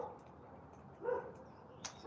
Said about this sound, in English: So those dogs can see the birds from here, and it's a bit too much for them. They're too excited.